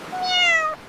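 A single clear cat meow, short and close, rising slightly then cutting off after under a second, heard alone.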